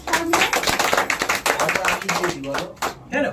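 An audience at a theatre group's birthday celebration claps for the director, a dense burst of many hands applauding together under loud overlapping voices, fading near the end.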